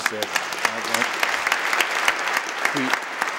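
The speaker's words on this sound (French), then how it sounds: "je pense qu'on doit applaudir nos sœurs grises" An audience applauds the Grey Nuns at a tribute to Marguerite d'Youville, a steady wash of clapping lasting a few seconds, with brief voices sounding over it.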